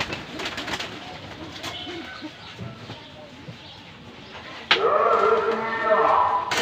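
Pigeons coo softly at close range, with someone talking over them and a louder burst of birds near the end.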